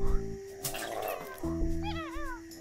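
A cartoon cat meows in a cat puzzle video game, a short wavering mewl near the end following game music and brief louder effects.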